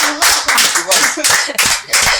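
Studio audience on a French TV quiz show claps in loud, close bursts of applause that swell and fade several times over about two seconds.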